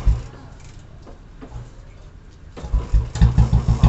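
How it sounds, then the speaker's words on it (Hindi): A Royal Enfield Bullet motorcycle cold-starts with a quiet, uneven stretch, then the engine catches into loud, close, lumpy low thumping that grows steadier toward the end. "अभी फाइनली हमारी बुलेट हो गई स्टार्ट कोल्ड स्टार्ट करते हैं"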